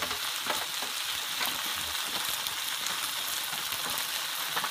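Loud, steady sizzling from rad na noodles being stir-fried in a hot wok, with faint scraping of a utensil; nobody speaks.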